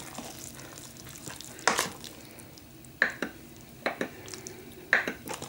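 Green risotto stirred in a Cookeo multicooker pot, with soft scraping strokes and a few sharper clinks of the spoon against the pot, recurring at irregular intervals with quiet gaps between.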